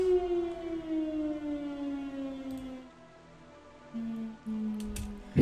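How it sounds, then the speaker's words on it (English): A town siren wails in long, slowly falling tones that rise again toward the end, steady and fairly loud with no voices over it. "The fucking siren in town."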